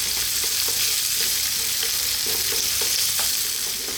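Chopped onion frying in oil in a pan, a steady loud sizzle with a few soft scrapes as it is tossed around, close up and without speech.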